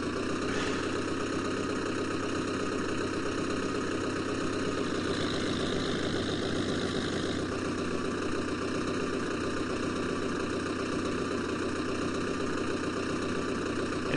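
A steady tractor engine drone from Farming Simulator 2011 hums continuously at moderate level, with a slight shift in tone partway through and no other sounds.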